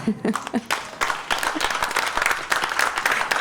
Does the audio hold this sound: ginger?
no